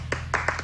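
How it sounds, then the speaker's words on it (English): A few sparse, uneven claps from a concert audience at a 1999 live radio show, roughly four quick hand strikes over a low steady hum, like a small group clapping half-heartedly. "Can we have another little clapping bit?"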